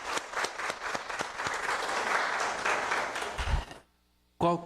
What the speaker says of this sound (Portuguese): Palmas para nossa equipe de teatro aí já